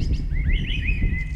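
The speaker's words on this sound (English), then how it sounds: "the birds are wicked." Several birds chirp and sing in quick, rising phrases over a steady low rumble of background noise.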